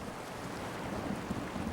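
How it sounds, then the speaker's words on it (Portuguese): Wind-driven waves almost a metre high on a river, heard as a soft, continuous wash of water under steady wind rumble, faint and distant with no voices. "O vento sopra rio acima e isso acaba gerando essas ondas de quase 1 metro de altura."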